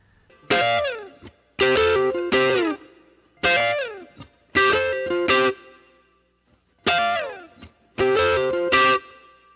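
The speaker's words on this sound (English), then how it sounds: "when I move through the string, I get the attack of the pick with the fingernail trailing it" Electric guitar picked with both pick and fingernail, playing bright chords through effects with distortion and chorus, struck in short rhythmic bursts separated by brief gaps, close and loud with no talking.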